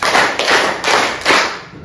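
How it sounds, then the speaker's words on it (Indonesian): A class of sixth graders claps hands together in rhythm, four loud, evenly spaced group claps close by with no talking. "Tepuk 4."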